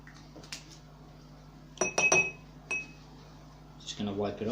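A drinking glass is wiped and clinks sharply several times at close range, with bright glassy taps and a few softer knocks, while a person talks at moments.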